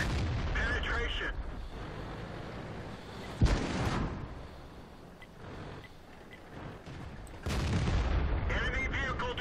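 Heavy tank cannon shots from the World of Tanks video game, with a Stug IV tank destroyer in play: sharp, loud booms with rumbling decay, spaced several seconds apart over continuous battle noise, with radio-style voice callouts between them.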